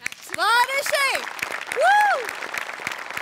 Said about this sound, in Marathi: सगळ्यात आधी सेटिंग डिपार्टमेंटसाठी टाळ्या.